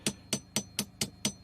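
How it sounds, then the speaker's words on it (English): A hammer taps repeatedly at the adhesive-joined plastic pieces of a VW Rabbit Mk1 pickup rear license lamp, six evenly spaced sharp knocks, close and clear with no talk. "just take a hammer"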